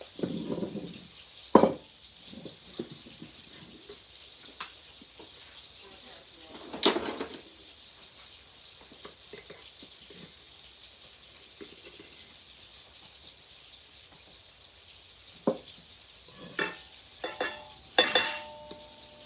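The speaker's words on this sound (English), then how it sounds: "While that's frying up" A faint, steady sizzle of food frying in a pan, broken by occasional clinks and stirring noises, with no one talking.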